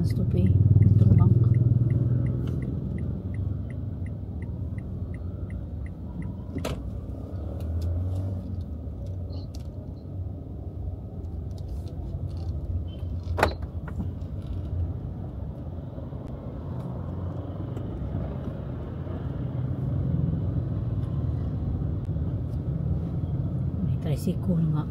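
A motorized tricycle's engine rumbles steadily through a ride, with low road noise throughout and a few sharp clicks, while people talk over it.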